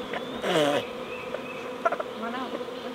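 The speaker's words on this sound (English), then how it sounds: "Trying to catch a bee" Honeybee swarm buzzing nearby, a steady insect drone with a louder bee passing close and fading, while a few quiet sounds drift in the background.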